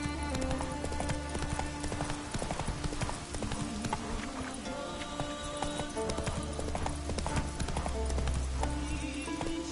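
Roach the horse in The Witcher 3 gallops in a fast, dense, continuous drumming of hooves, close and loud throughout.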